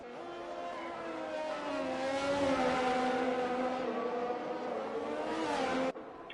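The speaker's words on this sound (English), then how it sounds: "Meanwhile, the first cars are out on track." F1 2021 race cars in the game head out on track at the Italy round, with a sustained engine whine that rises and swells, then cuts off abruptly near the end.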